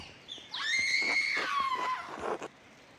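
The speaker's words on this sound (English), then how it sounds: "Someone screamed." A person screams in the Pentiment video game: one loud, high, wavering cry that rises sharply, holds and then trails off over about two seconds.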